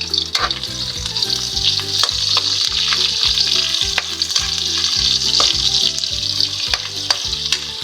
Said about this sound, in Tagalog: Hayaan nyo siya mag-transparent yung sibuyas.